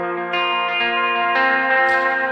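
A guitar feedback effect pedal, used alongside light delay and reverb, sustains a loud, layered harmonic drone that swells in steps and brightens near the end, with no voices.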